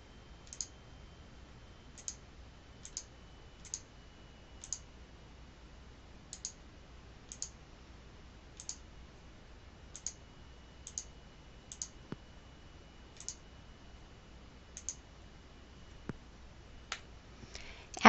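Mouse clicks in structural foundation design software, a steady run of sharp, faint single clicks spaced every second or so over a quiet background hum, with a few louder clicks near the end.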